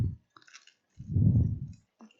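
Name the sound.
crunching nuts in mocca nougat cake while eating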